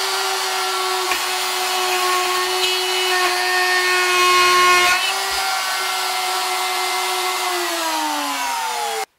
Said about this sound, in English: I'm going to make a plunge cut with a 1/4-inch router bit.